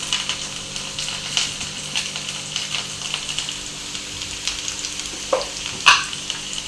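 Curry leaves frying in hot oil with onion pieces, a steady crackling sizzle throughout, broken by occasional stirring scrapes and a couple of louder pops near the end.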